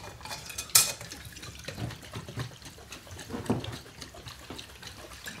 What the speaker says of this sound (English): Now we close all of these and shake them good.